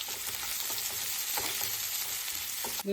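Onions sautéing in a pan for a beef liver fry, giving a dense, steady sizzle with soft stirring scrapes throughout.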